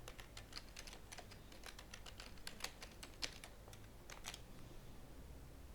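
Keys on a computer keyboard clatter in quick, uneven bursts of clicks while a password is entered, close and fairly quiet with brief pauses between runs.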